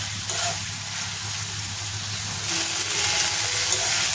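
Pointed gourd (potol) and paneer sizzle steadily in a hot pan, a continuous close frying hiss that grows slightly louder and brighter partway through, with no voices.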